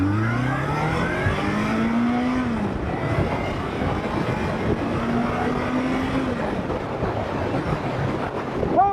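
A 1979 Kawasaki KZ motorcycle engine revs and accelerates, a loud close roar that rises in pitch through gear pulls and shifts, with steady wind rush underneath and no talking.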